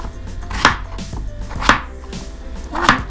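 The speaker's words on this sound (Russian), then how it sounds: "Просто нарезаем ее вот таким вот образом." A knife chops raw potatoes into rough cubes on a board for a chicken and potato pot dish, giving three distinct, evenly spaced sharp thuds close by with no talking.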